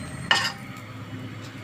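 Potato chops (aloo chop) cooking in a pan, a single sharp metallic clink of a utensil against the pan over a low, steady frying background, close by.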